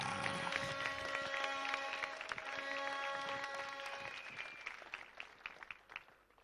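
An audience applauds at a 71st anniversary celebration for a reverend. The clapping is faint and distant at first, sitting under sustained tones, then thins into scattered individual claps as it fades.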